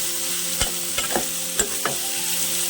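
Prawns fry in a pan over a low flame for a Telugu prawn and ridge gourd curry, a steady soft sizzle broken by a few sharp clinks of a utensil stirring against the pan, with no voices.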